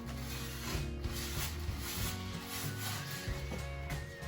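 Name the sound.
tissue with oil rubbed on the inside of cling film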